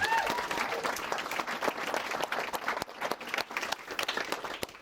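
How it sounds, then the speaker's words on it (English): Audience applause at a wedding reception speech, dense clapping from a full room that swells and thins slightly across the stretch, with a voice briefly audible early on. "A round of applause, please, everybody"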